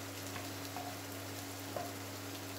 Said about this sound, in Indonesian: saya mau tumis ini. bawang bombay, dan saya masukkan bawang merah